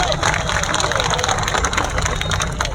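Crowd applause at a political rally in Gwalior, a continuous loud wash of clapping and cheering throughout, with no break.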